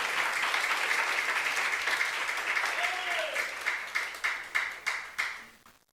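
A church congregation applauds during a sermon, a broad wash of clapping that thins into a few distinct separate claps before stopping, heard at moderate distance with faint murmuring underneath.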